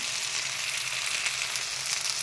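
Potatoes fry with onions in hot oil while being gently stirred for a shol fish kaliya, giving a steady, close, continuous sizzle with no talking.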